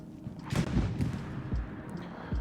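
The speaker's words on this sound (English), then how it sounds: "Big tank explosion though does the job" A tank blows up on Omaha in the Hell Let Loose video game, a series of deep booming thuds and blasts with low rumble between them, loud and close for a couple of seconds with no talk.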